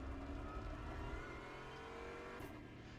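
A car engine on a race track pulls hard through the gears, a continuous close roar rising in pitch with a brief shift near the end.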